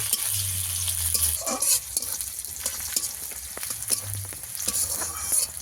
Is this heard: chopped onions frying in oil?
yes